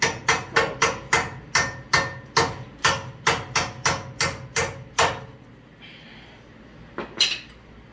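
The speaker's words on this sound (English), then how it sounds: "I'm also going to try to tap out this bolt here" Sharp metallic hammer strikes tap out a bolt on a car suspension, about fourteen evenly spaced blows in a steady rhythm, close and loud, then a brief pause with faint shuffling and one last softer knock.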